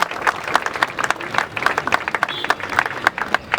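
Mourners at a funeral tribute applaud together, a lively mix of many hands clapping with distinct sharp claps standing out, loud and close, with some crowd voices mixed in.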